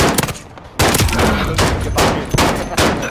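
Gunfire in Modern Warfare strikes a window in rapid bursts of sharp, loud shots with brief gaps between volleys, close and dominant, with no talking.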